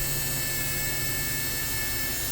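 A Mini 4WD electric motor spins freely at about 3 volts, a steady high-pitched whine with a dense, continuous buzz that holds level throughout, close and alone.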